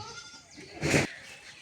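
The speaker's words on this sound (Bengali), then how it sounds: "বৃষ্টির জন্য ছাগলগোনা চলে আসতে আসতে" Goats give a single loud bleat in the open under a darkening, stormy sky before rain, rising briefly over quiet outdoor background.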